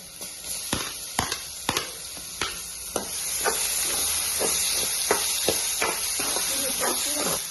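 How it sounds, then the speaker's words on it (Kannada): Tomatoes dropped into hot oil in a pan, with a steady sizzle and hiss carrying a run of sharp spitting crackles and stirring clinks, close up and continuous. "ಇವಾಗ ಒಂದೆರಡು ಟೊಮಾಟೊ ಹಾಕ್ಕೊತೀನಿ ನೋಡ್ರಿ"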